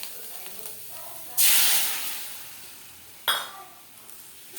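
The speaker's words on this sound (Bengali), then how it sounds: "এখানে আমার পেঁয়াজটা ভাজা হয়ে গেছে। এর মধ্যে মশলাটা আমি দিয়ে দিচ্ছি।" Spices are tipped into fried onions in a hot pan, setting off a loud hissing sizzle that slowly fades, followed by a second sharp burst of sizzling.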